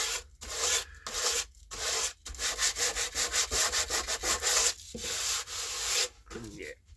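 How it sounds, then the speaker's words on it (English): Hand sanding of body filler on a repair, a steady run of rhythmic rasping strokes close by, with short pauses between bursts of scraping and a brief low voice near the end. "Sand that out."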